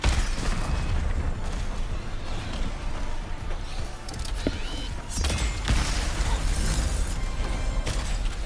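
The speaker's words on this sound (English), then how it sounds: "there's like mini missiles that fly out and just hit random shit" Mini missiles exploding in Ratchet & Clank: Rift Apart, loud continuous game combat with rumbling blasts, sharp pops and mechanical clatter stacked together, including a cluster of bright bursts partway through.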